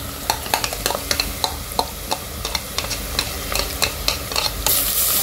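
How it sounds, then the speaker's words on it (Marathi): Onions fried red in a pan for chicken biryani, with ground ginger, garlic, green chili, coriander and curry leaves being added, sizzle steadily while a spoon scrapes and stirs in a quick, repeated rhythm close by. "कांदा बघा लाल झाला आहे. आता त्याच्यामध्ये हे वाटण केलेलं आलं लसूण मिरची कोथिंबीर कढीपत्ता"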